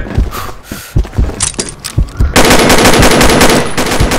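Automatic gunfire from a team-based shooter video game rattles in rapid bursts, with scattered single shots first and then a dense, loud sustained volley near the end.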